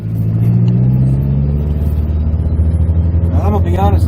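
A car engine drones loud and close from inside the cabin, holding a steady, heavy rumble with a slight rise in pitch as the car pulls, and a voice speaks briefly near the end.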